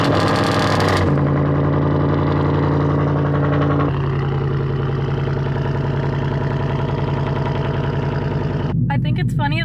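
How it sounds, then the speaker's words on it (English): A 2015 Ford Mustang 5.0 V8 with straight pipe exhaust fires up with a loud burst, then settles into a deep, rumbling, loping idle close by, with a small shift in tone partway through. "this is the last time I'm going to be starting up my car with the straight pipe"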